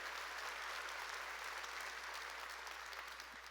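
Congregation clapping during a church service, a dense continuous round of applause filling the whole clip at a fairly faint, distant level with no talking.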